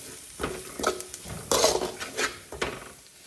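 Bitter gourd that was fried earlier, sautéing in a pan for a Kerala raw mango curry, with several separate stirring scrapes and clinks against the pan over a light sizzle, close and moderately loud, no voices.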